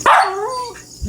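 A single sharp bark from a nearby dog at night breaks into a drawn-out, whining tail, then falls quiet.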